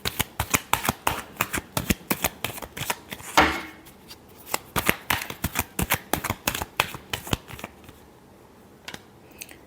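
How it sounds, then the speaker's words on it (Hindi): Tarot cards are riffled and bridged in a rapid, close series of crisp flicks for most of the stretch, with a brief sliding rush partway through before the shuffling slows and stops. "Last shuffle."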